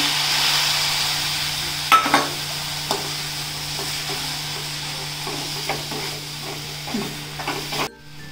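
Roasted coconut mixed with milk powder and milk gets stirred in a pan with a spoon, giving soft scraping strokes and a light sizzle over a steady hum.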